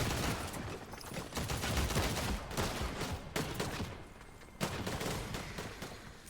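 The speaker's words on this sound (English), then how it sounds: "I'm running towards the gunshots" Rapid, continuous gunfire in the battle royale video game Fortnite, with dense overlapping shots and a few sharper close bursts over a steady din of combat.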